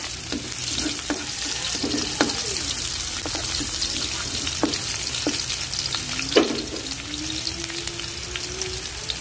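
Garlic and onion fry in hot oil in a pan for a Filipino sea snail dish, a continuous close sizzle broken by scattered stirring clicks and a brief louder clatter late on, with no talk.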